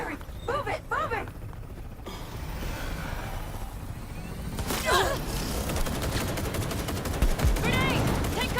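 Gunfire in the video game Cyberpunk 2077, bursts of shots and rapid automatic fire amid loud combat noise, with voices shouting over the action.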